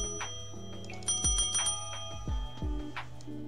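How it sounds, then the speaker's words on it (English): Bell ringing in the Poptropica video game, three or four bright metallic rings with lingering tones over a low synthesized background of game music. "Did you hear the bell?"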